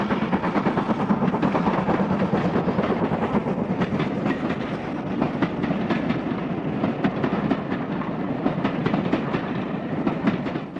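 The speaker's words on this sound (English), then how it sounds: "as the train threads its way through an attractive patchwork of fields and woods" A heritage steam train on the Bluebell Railway rolls steadily through fields and woods, with a continuous rumble and regular clickety-clack of wheels over rail joints, close and fairly loud, with no voices.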